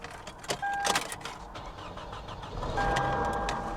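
A fire-damaged GMC Denali truck engine cranks and catches, then settles into a steady running rumble, heard up close and fairly quiet with no talking.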